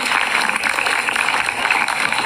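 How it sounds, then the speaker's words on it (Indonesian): Audience applause at a high school event with the West Java governor and a government minister, a dense steady wash of many hands clapping throughout. "Tepuk tangan, hadirin tepuk tangan."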